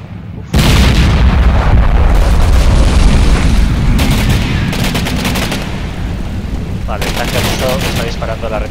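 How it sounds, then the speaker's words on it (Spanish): Video game gunfire from Combat Mission Black Sea as shots are fired into a tank's rear: a loud, dense stretch of booming shots and rattling bursts that runs on continuously, with brief crackling volleys layered in. "Disparando la retaguardia del tanque."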